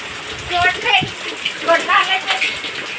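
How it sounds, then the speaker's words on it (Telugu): Heavy monsoon rain falls in a steady broad hiss, close and continuous, while people talk over it. "ఈరోజు వాన పడుతుంది"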